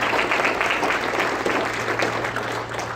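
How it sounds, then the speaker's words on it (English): Audience at a city council candidate forum applauds steadily, a dense sustained clapping that fills the room at a constant level throughout. "Let's give another round of applause for all the great candidates."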